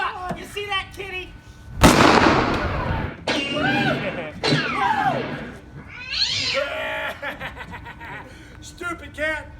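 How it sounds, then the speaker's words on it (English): A cat meows several times during a Wild West stunt show, rising and falling cries mixed with people talking and one sharp gunshot-like crack early on. "Stupid cat!"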